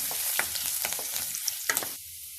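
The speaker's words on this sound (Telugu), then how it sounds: "కరివేపాకు అలాగే ఎండుమిర్చి కొంచెం పసుపు వేసి బాగా మిక్స్ చేద్దాము" Curry leaves, dried chillies and turmeric frying and being stirred in a pan for egg bhurji, a close crackling sizzle broken by quick scraping and tapping strokes of a spatula, with no voices.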